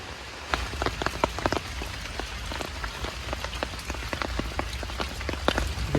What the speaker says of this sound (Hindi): क्या मज़ा आ रहा है यार बारिश का।